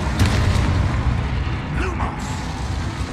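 A Confringo spell blast in Hogwarts Legacy, a deep booming burst with rumbling low end under a steady game soundscape, with a brief whooshing tail.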